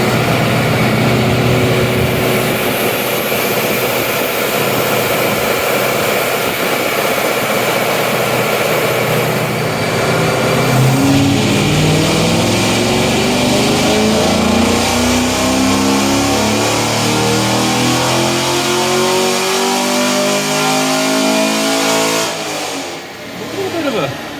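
A car with an LT1 V8 fitted with an LT2 intake revs through a dyno pull. A loud, sustained engine roar climbs steadily in pitch, then cuts off abruptly near the end.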